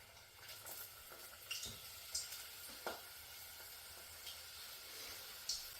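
Philly cheesesteak rolls fry quietly in a pan with a soft continuous sizzle, broken by a few sharp crackles and pops spaced through the span, no voices present.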